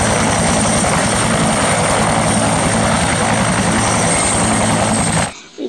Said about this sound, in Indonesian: Wih, ini helikopter